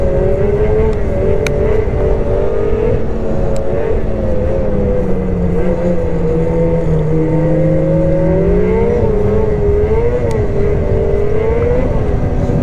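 A BRP Lynx Xterrain 900R snowmobile engine being blipped, with the throttle repeatedly rising and falling in pitch over a steady loud drone. It sounds close and continuous, with no talking.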